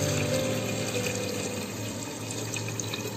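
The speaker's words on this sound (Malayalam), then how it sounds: "നമുക്ക് 5 ഗ്ലാസ് അരിക്ക് ആവശ്യമായിട്ടുള്ള വെള്ളം നമുക്ക് ചേർത്ത് കൊടുക്കാം" Hot boiled water is poured steadily into a pot of biryani rice with prawns, giving a continuous splashing, gurgling flow against a background hum, with no talking.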